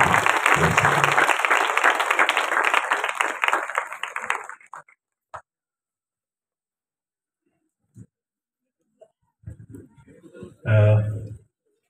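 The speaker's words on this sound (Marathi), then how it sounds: "टाळ्या वाजून प्रभूला धन्यवाद देऊया जोरदार टाळ्या" A church congregation claps loudly and rapidly in praise, a dense burst of applause that stops abruptly after about four seconds, leaving near silence with a few isolated knocks and a brief spoken voice at the end.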